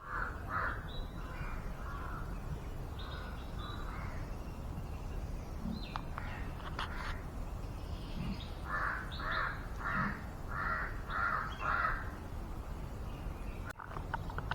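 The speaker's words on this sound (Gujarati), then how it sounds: "પક્ષીઓનો કિલકટ કિલકલાટ સંભળાવવામાં આવે છે" Crows caw repeatedly while other birds chirp faintly in a quiet nature park in Surat, the calls coming from a moderate distance over a steady outdoor hush.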